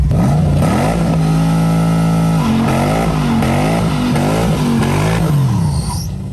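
A fake Lamborghini replica's engine bounces loudly and continuously on the rev limiter during a burnout, its pitch wobbling up and down in close, sustained pulses.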